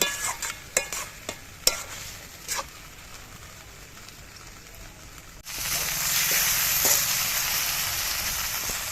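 A spatula scrapes and stirs spring onion and poppy seed paste in a frying pan with quick clacks over a low sizzle, then a sudden louder, denser hiss of frying takes over for the last few seconds.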